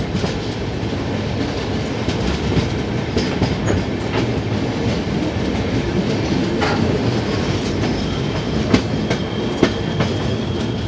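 The Hyderabad-Jaipur special passenger train rolls steadily between Akola and Itarsi above the Howrah-Mumbai mail line. Loud, continuous rumble and clickety-clack of the wheels are heard from on board, with occasional sharp clanks and no voices.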